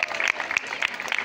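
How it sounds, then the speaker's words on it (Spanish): Brief burst of audience applause at a school Labour Day program, quick uneven clapping from a small crowd lasting about a second. "Un aplauso para el comunero."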